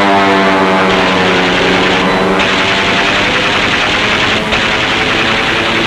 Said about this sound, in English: The planes open up first.